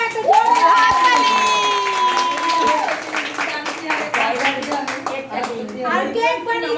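Clapping and scattered cheers from a community audience celebrating a prize-winning team at a yoga competition, a short burst of applause mixed with voices and children chattering, with a steady tone running through part of it.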